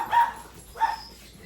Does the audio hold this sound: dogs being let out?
yes